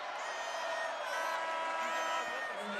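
Arena crowd at a college men's basketball game, Jackrabbits against North Dakota, voicing steady disapproval after a missed deep three-pointer, a continuous mass of voices holding at fairly even loudness throughout.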